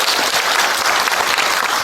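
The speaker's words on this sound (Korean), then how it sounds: "모든 장면을 열심히 한 것으로 박수 한번 부탁드립니다" Loud, dense applause from a film festival audience at a post-screening Q&A session in Busan, continuous clapping from a large crowd with no speech on top.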